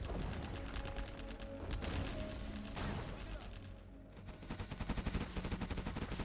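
Bursts of booming blasts and crackling gunfire from the strategy game Generals, layered with a faint tonal soundtrack, ending in a fast run of rhythmic rattling shots.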